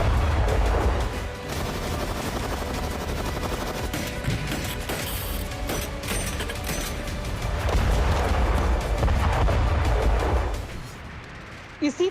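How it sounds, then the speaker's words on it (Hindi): Artillery cannons fire in a loud, dense barrage at a Chinese military display, booming blasts and rumble layered continuously with faint talk and crowd noise beneath. "इसी तरह तोपें गरजेंगी"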